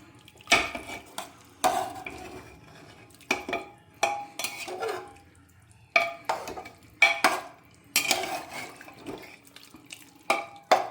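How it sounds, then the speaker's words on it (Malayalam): Beef vindaloo is stirred in a pressure cooker: a spoon scrapes and clatters against the metal pot in repeated bursts, with short pauses between strokes and wet, thick sloshing. "ശരിക്കൊന്ന് ഇളക്കി കൊടുക്കണം."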